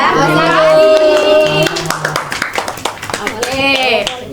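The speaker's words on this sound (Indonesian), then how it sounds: "Tepuk semangat." A classroom group claps a rhythmic spirit clap during a civics microteaching lesson, with quick sharp hand claps in a patterned sequence under children's chanting voices, loud and close.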